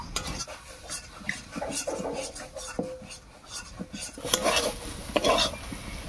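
A cooking pot of bathua greens thickened with rice paste is lifted off the stove amid clattering metal, scraping and clinking of utensils, with irregular bursts of louder knocks.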